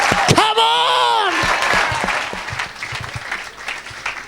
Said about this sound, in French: Donne une grande acclamation à Jésus de Nazareth.